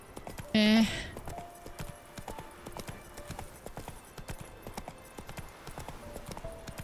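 Horse hooves clip-clop in a steady, even rhythm while riding in the video game The Witcher 3, with a brief loud tone near the start.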